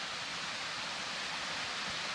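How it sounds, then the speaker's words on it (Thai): A waterfall on Mt. Mitchell in North Carolina gives off a constant broad rushing hiss, steady and fairly loud, with no voices over it. "โอ้ยน้ำตก"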